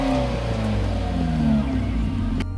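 A Hyundai Genesis Coupe with the 2.0 engine revs, its exhaust note steady and full, then rising and falling in pitch over a couple of seconds before cutting off.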